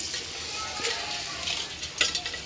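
Ingredients frying in a pan for pappu charu, a soft steady sizzle with occasional stirring scrapes and a couple of light utensil clinks, fairly quiet.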